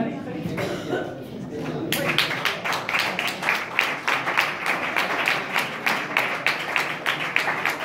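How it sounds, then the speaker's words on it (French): Audience at a prize ceremony bursting into applause after a brief pause with a cough, a quick rhythmic clapping building and sustaining at moderate distance. "On les applaudit très très très fort avec un score de 49 points."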